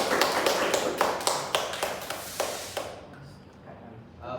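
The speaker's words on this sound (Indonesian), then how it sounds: "Aplaus untuk kita pada hari ini dulu." Brief clapping in a classroom, a burst of several hands tapping that thins to a few scattered claps and then fades into quiet room noise.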